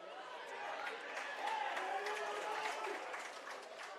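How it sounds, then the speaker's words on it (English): A large crowd at a men's rugby league final in Yorkshire keeps up a steady, distant roar and murmur, swelling slightly midway, with a commentator talking over it. "We couldn't hear the referee's whistle over the noise of the crowd."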